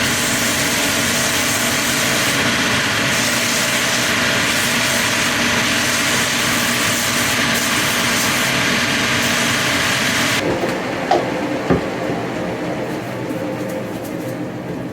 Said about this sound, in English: we're going to sand up our Vibram 100 outsole